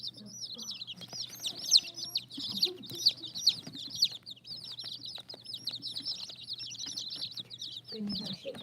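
Chickens cluck repeatedly in a steady chatter with scattered louder calls, close by, with a low hum underneath and some faint voices.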